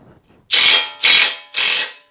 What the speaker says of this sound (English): So I'm actually going to wrench this down a little bit because I see a little bit of a gap